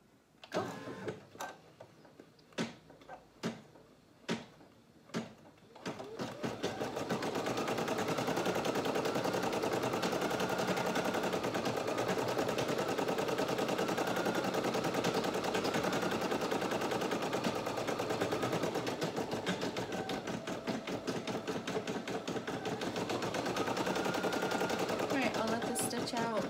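A Brother SE1 embroidery machine stitches a monogram onto a bathrobe, starting with a few sharp clicks before settling into a loud, steady, rapid needle chatter that runs continuously to the end.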